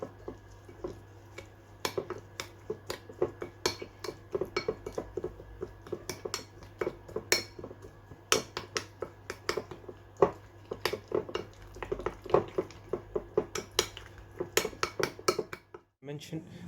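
Lamb leg roast marinade being mixed in a dish with chili powder, a long run of irregular clinks and taps of a utensil against the dish, close and fairly sharp, with soft wet squishing between, and a brief pause near the end.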